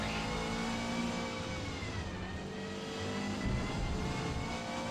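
Subaru Levorg GT rally car in Forza Motorsport on a wet, gloomy Catalunya track, its engine droning and revving steadily at close range, loud and continuous with no talking.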